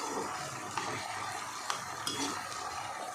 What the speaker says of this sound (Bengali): তো আদা রসুনটা ভাজা ভাজা হচ্ছে